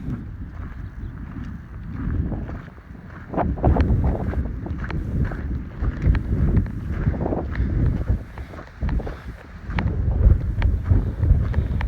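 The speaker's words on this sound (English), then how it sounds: "It's really windy up here." Strong, steady wind roars and buffets against the microphone on a hilltop along the Pacific Crest Trail, with gusts swelling and fading throughout.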